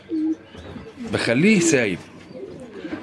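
Domestic pigeons in a loft, giving a close, clear cooing call mid-clip, with a brief low coo before it and faint bird sounds around.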